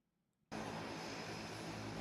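Propeller airplane landing, its engine drone cutting in suddenly and holding loud and steady.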